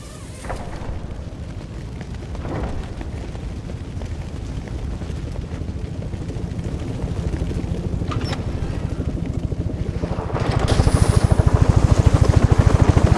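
Helicopter in the video game Batman: Arkham Origins, a steady low rotor drone with rhythmic chopping that holds throughout and swells louder near the end, mixed with occasional game effects and no talk.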